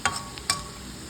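Okra frying in a pan gives a faint sizzle under two quick scraping stir strokes, short and close.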